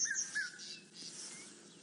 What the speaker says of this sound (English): There's the bird, the red-chested cuckoo.